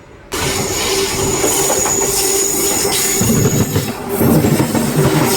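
The Simhadri Express passenger train runs past at Kovvur railway station, a loud, steady roar of wheels and carriages with squealing and rattling throughout, close and continuous.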